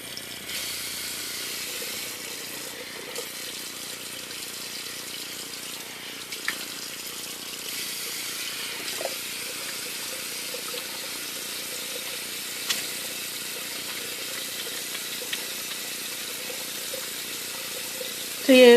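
A vegan coconut milk soap bar being lathered by hand under a running tap, a steady close hiss of flowing water with faint intermittent rubbing and small splashes.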